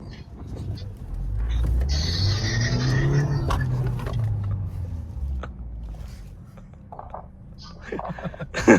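Low engine rumble and road noise from inside a moving car, swelling in the first seconds and then easing off, with people chatting over it.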